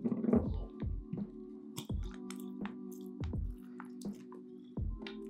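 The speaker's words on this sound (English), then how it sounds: "And 4 healthy dashes of Angostura bitters." Angostura bitters dashed from a small dasher bottle into a glass for a Wisconsin Old Fashioned, heard as a few faint, soft drips and liquid taps over a low hum, with no talking.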